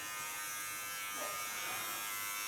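Hair clipper buzzing steadily near the head during an ultra-short clipper cut, a constant close electric hum with a slight change in pitch partway through as the blade meets the hair.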